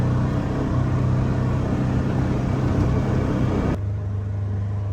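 A vehicle drives across a rough pasture in high gear, giving a loud, steady engine rumble and rattling that drops to a lower hum near the end, with no voices.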